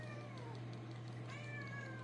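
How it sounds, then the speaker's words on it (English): A hungry cat meows faintly in a quiet room against a steady low hum, with no talking. "My cat is getting hungry."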